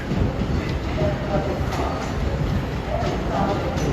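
MARC commuter train 429 from Baltimore Penn Station pulls in, a steady close rumble of rolling rail cars with faint wheel noise, loud and unbroken over a few seconds.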